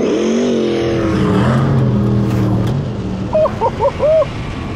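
An 1800hp muscle car and a 650hp Hyundai EV drag racing, with a loud engine roar rising in pitch as it accelerates hard, then fading into a steadier rumble, with a short burst of sound near the end.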